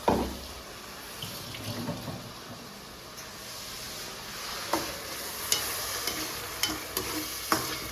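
Ground tomato paste being sautéed and stirred in a pan while cooking fish curry, with a soft steady sizzle, scraping stirs and occasional sharp clinks of a spoon against the pan, no talking.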